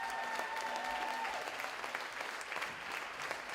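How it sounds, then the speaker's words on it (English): A school audience applauds a live band performance in a hall, dense sustained clapping throughout with a faint tonal hum beneath and no voices. "Come on, give them a round of applause."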